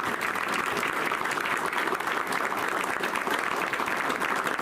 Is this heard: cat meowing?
no